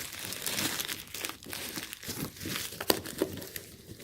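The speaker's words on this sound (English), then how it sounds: "Since it's already ripped on this, I'm just gonna open it up. Whoa, plastic is pretty cheap." Cheap plastic packaging around a TV wall mount bracket being opened: close, irregular crinkling and crackling of thin plastic with a few sharper snaps, fairly quiet, no talk.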